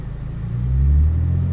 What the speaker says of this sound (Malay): tekan throttle sikit je